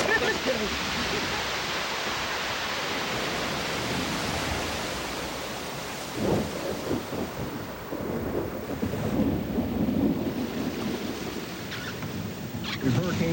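Hurricane Juan in 2003 batters the area with a loud, continuous roar of wind and heavy rain, then low thunder rumbling in bursts close by, with excited voices speaking over it.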